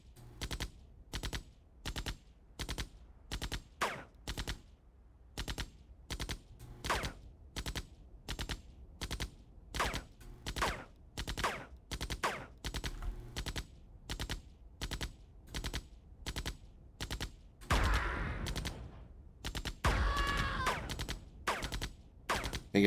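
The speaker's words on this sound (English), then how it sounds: "let me see if I can draw the Humvee over here and get my rocket troops to shoot at him" Rocket troops open fire on a Humvee in the Command & Conquer Remastered strategy game, with rapid gunfire bursts repeating in a steady rhythm, then a louder blast and crackle near the end, with no talking.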